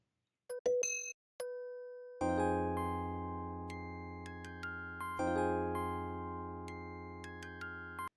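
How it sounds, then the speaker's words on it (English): Bright, plucked music-box bell synth tones from FL Studio play a sparse high melody, first in isolated notes, then over sustained lower chords, clean and with no voices. "Pattern 2 is now that music box bell with only the high notes."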